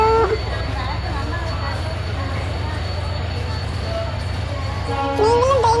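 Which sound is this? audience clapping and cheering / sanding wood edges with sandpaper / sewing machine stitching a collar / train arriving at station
train arriving at station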